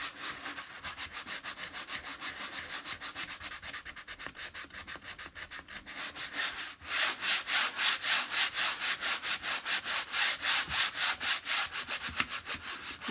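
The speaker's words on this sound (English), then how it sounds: "Now I'm going to kind of sand the edges." Sandpaper rubs back and forth along the edges of a chalk-painted wooden piece in quick, steady strokes, faint at first and then louder and more rhythmic, with no talking.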